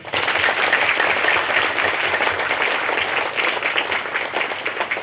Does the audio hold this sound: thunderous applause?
yes